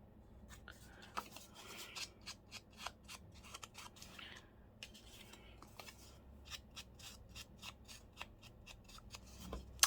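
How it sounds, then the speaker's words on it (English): Scissors snipping through paper embellishments for a journal, a quick series of crisp, close snips in an irregular rhythm, quiet and without talk. "Cut this, rip this in half."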